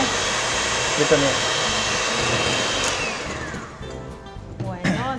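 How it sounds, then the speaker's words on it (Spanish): An electric mixer whirs loudly and steadily as it beats egg whites, its pitch dropping and the motor winding down partway through, with brief speech in Spanish over it. "Ahora vamos a agregar nuestra primera mezcla a nuestras claras de huevo y empezamos a batir"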